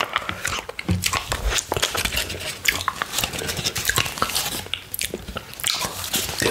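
Close, crisp bites and wet chewing of strawberries dipped in Greek-style blueberry yogurt, a steady run of crunchy, squishy mouth sounds with no talking.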